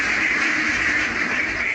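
Several three-month-old ducks on a farm quack continuously and loudly nearby, a dense overlapping chorus with no pauses.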